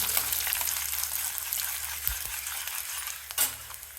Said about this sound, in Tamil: அதோடவே நான் காஞ்ச மிளகா போட்டுடுறேன் ஒரு நாலு காஞ்ச மிளகா சொல்லி வச்சுருக்கேன் அதையும் போட்டுடலாம்